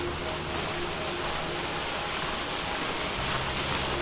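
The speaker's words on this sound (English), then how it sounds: "This is actually quite wide, this waterfall, so it looks cool." Wide waterfall at a cave in Bali, a constant broadband roar of falling water, steady and fairly close, with no voices over it.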